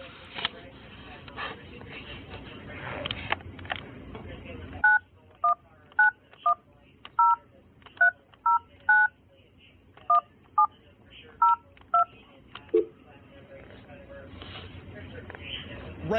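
Series of touch-tone dialing beeps from a telephone, about a dozen crisp evenly paced tones in a row, following muffled background talk and line noise; no distinct ring stands out.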